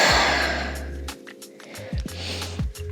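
A single deep breath out during a lymphatic drainage home workout, breathy and close, fading over about a second, followed by softer breathing and faint movement noises.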